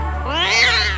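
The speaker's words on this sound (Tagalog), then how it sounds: "yung pusa, pamiyaw-miyaw lang" A cat meows in one drawn-out, rising-then-falling call, close and clear, with no other sounds around it.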